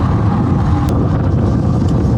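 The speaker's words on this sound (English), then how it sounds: "I don't know if you can even hear me now because it's so windy right now" Wind buffets a microphone during a fast bike ride at about 18 miles per hour, a loud, constant low roar with no break through the whole stretch.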